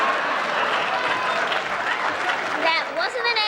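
A television studio audience on a late-night talk show laughs, applauds and cheers in a continuous dense roar, with a few louder whoops rising near the end.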